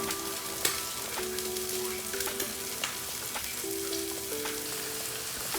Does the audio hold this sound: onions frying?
yes